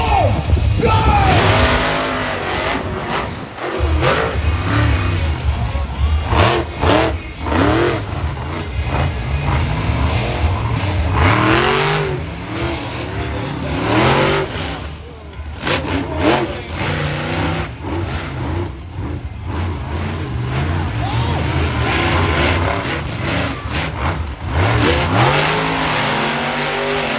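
Monster trucks Swamp Thing and Lambo race at the UK Monster Truck Nationals, big engines roaring and revving in repeated loud surges over a noisy crowd, with yelling and an announcer's voice mixed in.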